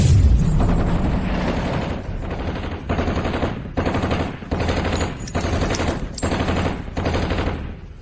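Rapid bursts of automatic gunfire in a dramatized scene, a loud explosive blast opening into repeated machine-gun volleys with brief pauses between them, close and dominant with no talking.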